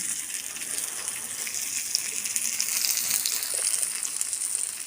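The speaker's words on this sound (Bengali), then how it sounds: "দেখুন ভালোভাবে লাল লাল করে ভেজে নিয়েছি" Potatoes sizzle in hot oil in a pan for aloo posto, a steady, dense frying hiss that stays close and even throughout with no voices.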